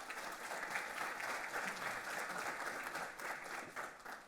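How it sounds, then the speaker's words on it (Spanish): A crowd claps in steady, sustained applause welcoming a speaker, moderately distant, without pauses. "Un aplauso para él, por favor."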